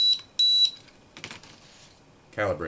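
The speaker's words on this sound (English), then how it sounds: "Push the throttle up, hear a beep" Two sharp, high electronic beeps from the RC transmitter of a Dromida Kodo drone sound in quick succession, followed by quiet handling noises and a brief burst of talk at the end.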